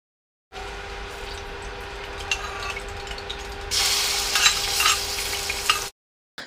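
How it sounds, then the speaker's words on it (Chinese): Chili bean paste stir-fried in oil over low heat, a steady sizzle under a constant hum that grows louder and brighter partway through with scattered crackles, then stops abruptly. "小火放豆瓣酱炒出红油"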